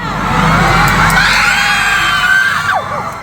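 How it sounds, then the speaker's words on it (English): A concert crowd at a show screams and cheers, a dense continuous roar of yells and shrieks filling the whole stretch, loud and sustained throughout. "people started screaming"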